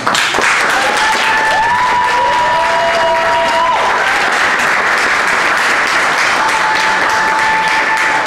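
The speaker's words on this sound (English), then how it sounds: "let's first of all give a rousing round of applause for Dave, Henry, Nathaniel, Coron" Opening-night theater audience applauding steadily for a play's cast, loud sustained clapping with scattered cheers and whistles rising above it.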